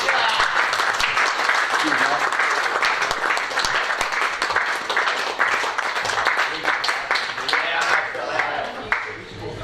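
Audience applause fills a room during an award presentation, with dense sustained clapping from many hands throughout and some voices mixed in.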